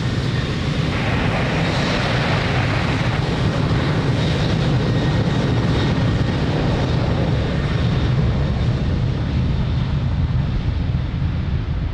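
A Ryanair airliner taking off on runway 02 at Lisbon Airport, a loud continuous jet engine roar that holds steady and fills the whole stretch without any voices.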